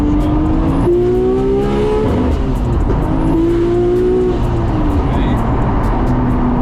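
Nissan Skyline R34 GTR accelerates at about three-quarter throttle on roughly 1.2 bar of boost, engine loud and close, rising through gears with brief shift dips, and someone talks over the engine noise.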